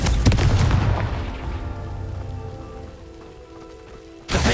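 A Confringo blast spell cast in Hogwarts Legacy on Xbox Series X, a loud booming burst that crackles and decays into a rumbling, rain-like hiss, followed by a sudden sharp impact at the end.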